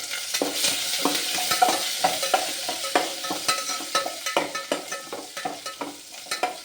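Curry leaves fry in hot oil for sambar, with a steady, close sizzle broken by frequent sharp crackles and stirring scrapes, with no voice over it.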